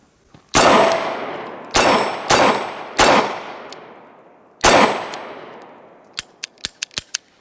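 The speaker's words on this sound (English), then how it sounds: "We're also going to be shooting some hollow points through it today." A Smith & Wesson M&P340 revolver fires hollow point rounds, five sharp, loud shots in an uneven rhythm. Each one is followed by a short ringing decay, and a quick run of lighter metallic clicks comes at the end.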